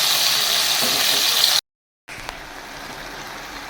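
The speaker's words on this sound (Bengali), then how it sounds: "এখন তাড়াতাড়ি করে চলো আগে আলুটাকে ভেজে নিই" Potatoes frying in a pan give a steady, close broadband sizzle that cuts out briefly for about half a second, then resumes slightly softer with a small clink.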